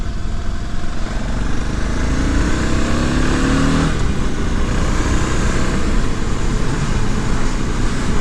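A 650 single-cylinder vehicle climbing uphill on the road, its engine a steady loud drone heard up close from on board, with a rising whine in the first half that drops away around midway.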